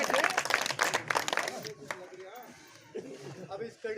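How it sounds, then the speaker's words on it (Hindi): A burst of loud clapping from a crowd at an outdoor street-corner political rally fades quickly, leaving murmuring voices and a few scattered claps. "इसके लिए आपका जोरदार तालियां।"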